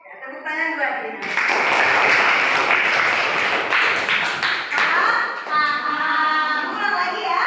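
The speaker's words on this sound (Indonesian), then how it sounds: "Tepuk tangan buat Dina." Children in a classroom break into applause for a classmate named Dina, a dense burst of small hands clapping that swells quickly and holds, with kids' voices and chatter mixed in before and after.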